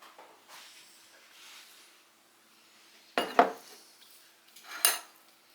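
Cottage cheese and cream are stirred in a bowl, with a few soft scrapes followed by two sharp clinks of a spoon against the dish in an otherwise quiet kitchen.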